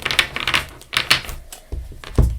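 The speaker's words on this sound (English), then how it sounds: "I'm just going to sort of shuffle like this and then I'm going to cut the deck." Tarot cards being shuffled by hand, a run of crisp riffling and slapping bursts, close and fairly loud, with a heavier thump of the deck being cut near the end.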